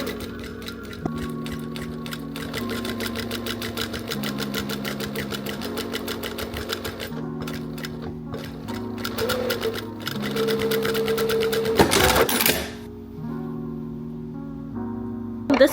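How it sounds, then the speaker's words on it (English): A sewing machine runs in steady bursts while stitching a rolled hem on a skirt, its rapid mechanical chatter stopping and restarting every few seconds, with a brief louder clatter near the end. "trim along that seam that you just sewed as close as possible"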